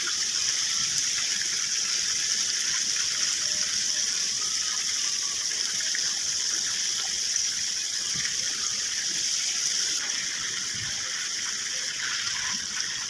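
Chicken pieces deep-frying in oil, spiced with home masalas for fried chicken: a steady, dense sizzling hiss that holds at an even level throughout, close and unbroken, with no talk.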